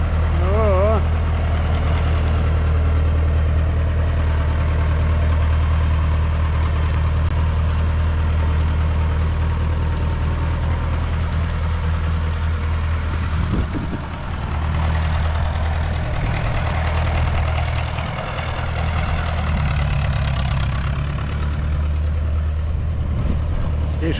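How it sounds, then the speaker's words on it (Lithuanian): A Massey Ferguson 595 tractor engine runs steadily at a low, rumbling idle throughout, close and continuous, with faint voices in the background. "Išvažiuoja traktoriukas"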